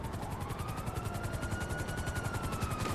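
Helicopter in the video game GTA V, a steady rotor chop with a whining turbine tone, fairly faint and continuous with no talking.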